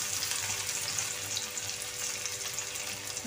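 Crushed garlic and fenugreek seeds fry in a hot kadhai with a dense, steady sizzle and crackle. It sounds close and constant for the whole stretch, with no speech.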